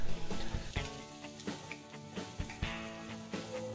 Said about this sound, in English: let's let that melt a little before we add some of our diced garlic